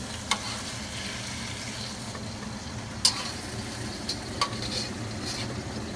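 Broccoli stir-fried in oil left over from cooking beef gives a steady close sizzle, with a few sharp clicks of a utensil against the pan.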